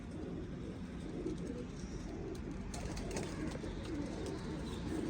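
Pigeons cooing nearby in a loft: soft, low, rolling coos repeating over a constant murmur of background noise, with no clear speech.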